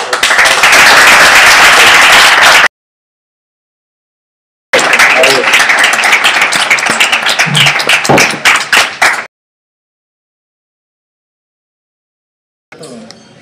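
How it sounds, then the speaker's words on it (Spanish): An audience bursts into loud, dense applause, which cuts off, returns as a second long round that thins into scattered claps, then falls silent before a brief final burst. "Un aplauso para vos"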